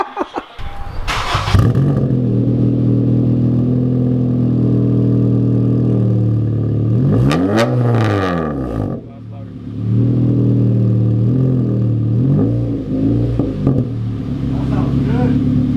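An Acura RSX engine fitted with an aftermarket exhaust header idles loudly with a deep, raspy exhaust rumble, revving up and back down in the middle, while people talk nearby.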